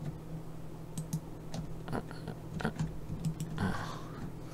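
Computer keyboard keys clicking, including presses of the Shift key, while modeling a car in Maya 2018. A series of light, close, irregular taps sounds over a steady low hum, with no talking.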